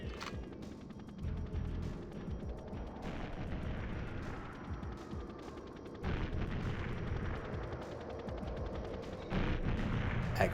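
A remote mine explosion and surrounding gunfire in the video game GoldenEye 007, on the Surface 2 level: rumbling game combat with sudden louder booms landing partway through, fairly faint overall.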